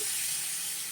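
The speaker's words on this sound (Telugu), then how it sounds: "ఇప్పుడు వాటర్ వేస్తున్నాను." Water is poured into a hot pan of fried paneer and cashew curry base, giving a brief, soft, steady steamy hiss.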